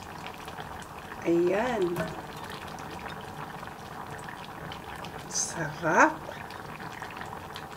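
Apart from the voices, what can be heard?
bitter gourd with kidney beans boiling in a pot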